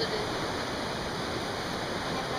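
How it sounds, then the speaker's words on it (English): Powerful water rushes inside Wind Cave in Grand Teton National Park as a dense, even roar that fills the clip with steady, close hiss and no pauses. "Just feeling how powerful the water is."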